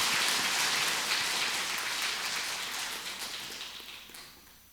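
A church congregation at a Catholic Mass claps in welcome, a dense patter of many hands that starts strong and gradually thins and fades over a few seconds.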